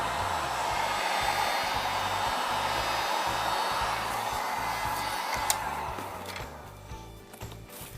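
A heat gun blows steadily at close range while reheating a Worbla thermoplastic mask, a continuous airy roar with a low droning hum that dips slightly near the end.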